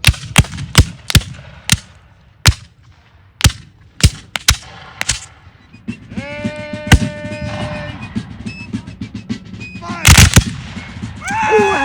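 Civil War reenactment musket volley in Ocala, a ragged series of loud cracking shots at first spaced out, then more scattered reports under a sustained tonal whine and crowd noise, ending in a dense burst.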